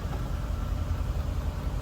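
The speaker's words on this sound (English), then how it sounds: "I switch the engine on, run it up to temperature" A classic Bentley T engine runs steadily at idle, a continuous low rumble close by, with a brief louder noise at the very end.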